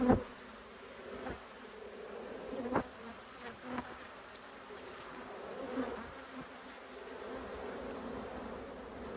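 Honey bees buzz steadily around an open backyard hive in Australia, a dense continuous hum with a few louder passes close by and no talking.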